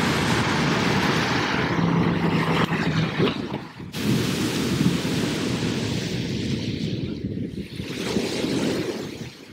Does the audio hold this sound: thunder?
yes